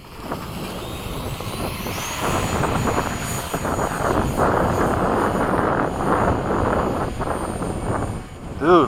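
An FMS 70mm F/A-18 model jet passes overhead at sunset, a steady whooshing ducted-fan roar that holds for several seconds and swells near the end, with people talking over it.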